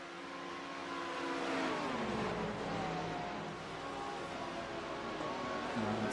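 GT3 race cars at the Daytona 6 hour race: several engines whine and rise in pitch together as cars jostle past each other, a steady moderately distant roar with shifting tones throughout.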